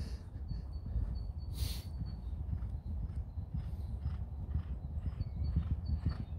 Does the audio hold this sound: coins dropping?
no